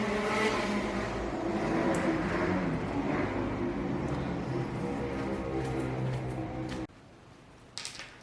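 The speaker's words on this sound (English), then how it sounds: "The motorcycle extravaganza was ramping up, so it was at the point that I just didn't want to talk over the noise." Motorcycles revving close by, a loud rumbling engine drone with surging revs that stops suddenly, followed by quieter background and a short burst of engine noise.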